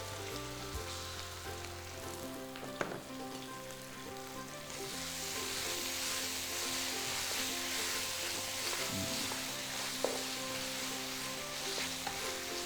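Chicken sizzles and fries steadily in a pan as it is stir-fried with two tablespoons of oyster sauce for a Thai chili-paste chicken dish, with a continuous crackle that swells louder midway and a couple of sharp utensil knocks.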